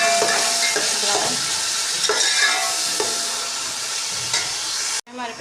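Onions frying and being stirred in ghee in a cooking pot, a steady bright sizzle with scraping stir strokes throughout, loud and close, cutting off abruptly near the end.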